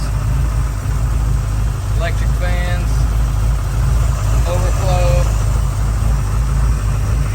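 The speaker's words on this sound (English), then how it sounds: "Powered by a 351 Windsor Ford motor." A Case 1030 tractor fitted with a 351 Windsor Ford V8 idles with a steady, loud low rumble that runs without a break throughout, while someone talks over it.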